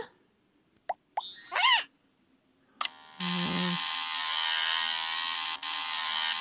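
After a few short whistles and pops, a steady electric-razor buzz starts as the shaving sound in a guessing game and continues loud and unbroken to the end.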